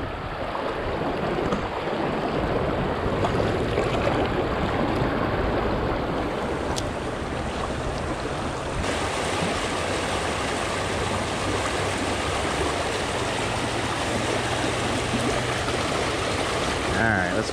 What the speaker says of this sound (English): These are crazy rapids.